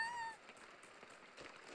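A cat gives a brief, high, happy meow at the start, then fades into faint background shuffling.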